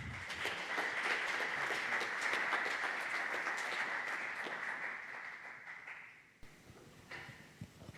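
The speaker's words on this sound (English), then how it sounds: "Please give them a round of applause." An audience applauds panel moderators at a discussion on quantum mechanics, with dense sustained clapping that fades out after about six seconds, leaving quieter room noise and a few scattered sounds.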